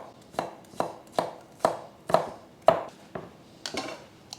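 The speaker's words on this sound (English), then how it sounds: "a minced clove of garlic" Knife mincing a garlic clove on a cutting board, about ten crisp evenly spaced chops, close and clear with no talk.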